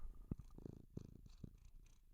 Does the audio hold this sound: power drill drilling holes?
no